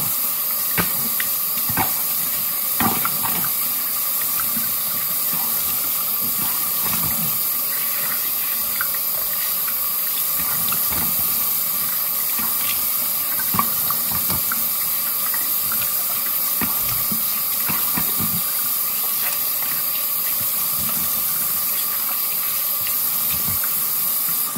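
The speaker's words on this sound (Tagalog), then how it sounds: "Hugasan ko na siya. I mean, naghilamos na ako." Tap water runs steadily as a face is washed at a sink with plain soap, a continuous close hiss with small splashes and no talking.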